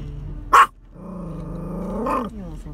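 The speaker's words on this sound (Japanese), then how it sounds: "何をそんな吠えているのかい？" A dog gives a sharp single bark, then a low sustained growl that rises into another bark, close by and loud, heard during a drive home.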